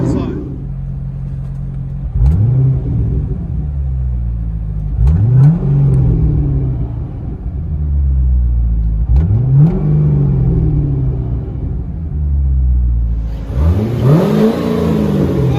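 A 2005 Chevy Corvette 6.0L V8 with straight pipes and dual exhaust is revved repeatedly in loud, deep rising blips spaced a few seconds apart, rumbling at idle between them, heard close from inside the car.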